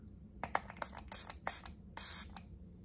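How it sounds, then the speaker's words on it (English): A facial mist spray bottle is pumped several times in quick, close succession, each press giving a soft hissing spritz, with a longer spray near the end. "let's see what the mist looks like"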